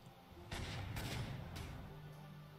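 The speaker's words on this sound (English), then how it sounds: "I'm going to hit him with my Panzerjäger 1B" A Panzerjäger I B tank destroyer attacks in the wartime strategy game Panzer Corps II: three sharp gun reports about half a second apart, each trailing into a low rumble, at moderate volume with no talk.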